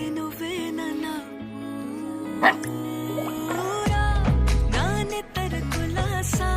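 A puppy barks and yips several times against a musical background, the short barks scattered across the stretch rather than in a steady rhythm.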